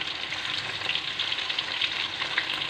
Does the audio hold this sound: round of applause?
no